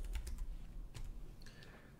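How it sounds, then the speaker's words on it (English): Quiet typing on a computer keyboard, a few scattered light key clicks in short clusters against a low background hum, no one speaking. "I'm gonna type in a DEM file."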